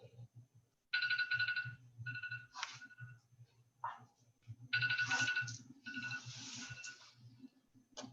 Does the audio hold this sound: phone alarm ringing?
yes